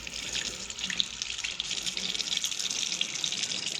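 Water leaks and pours steadily from a water tank, a continuous splashing hiss with small fluctuations, close and fairly loud, with no voices.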